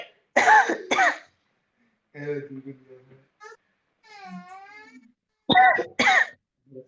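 Two bursts of harsh coughing close by, separated by a stretch of quieter voiced sounds and mumbling.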